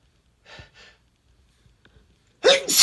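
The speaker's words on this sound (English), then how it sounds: "because I love to sneeze." Human male sneeze, preceded by quiet breathy inhales and a pause, then one sharp, loud burst at the end.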